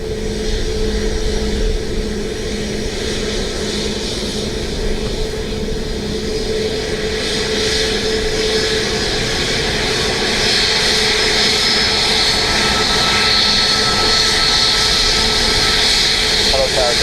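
An aircraft coming in to land at Dublin Airport rumbles with a steady engine drone and tonal whine that swells gradually, while radio chatter sounds faintly in the background.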